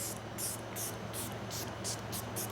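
A Vital Spray Serum facial mist sprays in a rapid series of about eight short, hissing pumps, close and crisp over a low steady hum.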